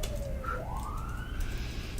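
A siren sound effect plays as a cue during a live crystal sale, a single wailing tone that dips and then rises in a long sweep, moderately loud over a steady low hum.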